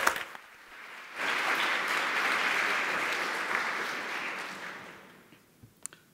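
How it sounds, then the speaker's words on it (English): Conference audience at a Python developer event bursts into sustained applause lasting several seconds, steady and dense before fading out, with a few isolated claps at the end. "Great round of applause."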